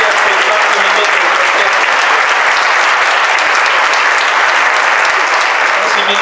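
Sustained, loud applause from a seated audience at a Holocaust remembrance ceremony in Mexico, dense clapping filling the room evenly from start to finish.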